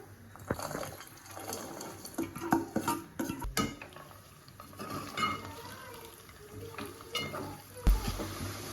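Chicken pieces go into a pan of frying red paste and are stirred, with scraping spoon clinks, soft sizzling and clattering of pan against utensil, moderately close and fairly quiet.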